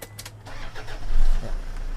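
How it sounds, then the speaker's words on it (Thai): A 3.0-litre diesel engine of a Toyota Vigo 4WD pickup cranks briefly and catches, settling into a loud, rough idle close by. "ขออนุญาตสตาร์ทเครื่องยนต์"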